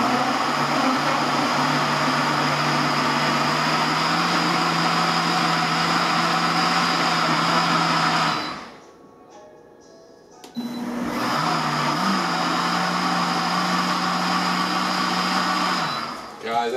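A blender set to medium whirs steadily while blending a thick green banana smoothie. It runs for about eight seconds, stops briefly, then starts again at the same loud, even drone.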